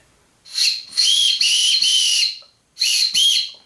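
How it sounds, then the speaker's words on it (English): A small, shrill micro whistle with no ball inside is blown in short blasts: a pair of toots, a longer sustained one, a pause, then two more quick blasts. "That's me doing a frankly half-assed job of using the whistle here in a pinch."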